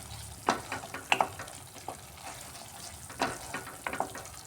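Spice paste for a white potato curry fries and gets stirred in a pan, giving a soft sizzle broken by several scraping stirring strokes close by, with no talking.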